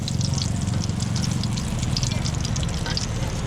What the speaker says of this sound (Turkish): Bu şekilde hemen pıt pıt kızartıyor.